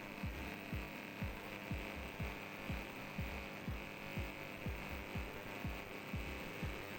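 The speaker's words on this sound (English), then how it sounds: "Finally, I clean all the surfaces in the ultrasonic cleaner" Ultrasonic cleaner washing the metal parts of a homemade bicycle headset cup remover tool: a steady electrical hum with soft, rhythmic low throbs pulsing about twice a second, close by and with no voices.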